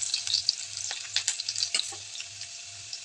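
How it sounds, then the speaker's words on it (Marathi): Chopped garlic frying with cumin seeds in hot oil for a spinach dish, a steady close sizzle with crackling pops and a few scraping stirs, alone without talk. "लसूण खूप सारा आपण जो कट करून घेतलेला होता तो आणि लसूण छान तळून घ्यायचं"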